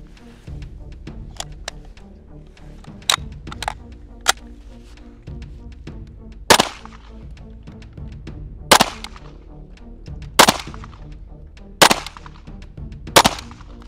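A Kriss Vector SDP Gen 2 firing 9mm rounds, loud sharp single shots spaced out irregularly, about a dozen cracks over a low background hum.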